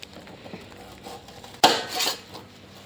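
A sharp crisp crunch of a knife slicing through a firm watermelon, followed by a brief rustling crackle, close and clear over quiet background.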